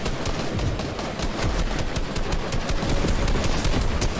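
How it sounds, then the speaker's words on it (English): Rapid bursts of automatic gunfire from the Fortnite video game, dense and continuous crackling shots that stay loud and close, with no talking. "Yeah, I was being shot at."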